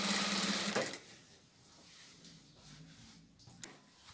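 A sewing machine runs in a dense whirring burst, stitching quilt seams for a recycled-bedspread comforter, then stops within a second; faint handling clicks and rustles follow in a quiet room.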